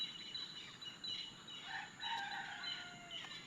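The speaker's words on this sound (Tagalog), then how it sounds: "Ang sarap pakinggan ng mga huni ng ibon" Birds calling outdoors during a walk, thin high chirps and short whistled phrases, with a rooster-like crow in the middle, faint and distant over a quiet background.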